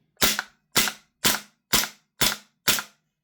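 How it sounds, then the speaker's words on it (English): Six sharp, evenly spaced shots from a Maruyama SCW-9 gas blowback airsoft rifle firing semi-auto, each a crisp pop with a brief hiss, about half a second apart, close and loud. "Semi-auto on the 30-round mag."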